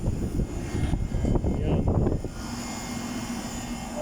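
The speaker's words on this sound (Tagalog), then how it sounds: "Magana yung compressor." An air conditioner compressor on a hot rooftop gives a loud steady mechanical drone with a low rumble and faint rattling, close by and continuous, with a slight drop in level partway through.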